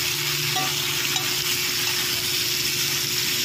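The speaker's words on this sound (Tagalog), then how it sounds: "Sunod ang manok, isang kutsa hanggang sa mag golden brown." Chicken pieces frying in a pan until golden brown, a loud continuous sizzle and crackle held steady throughout, close by and with no talking.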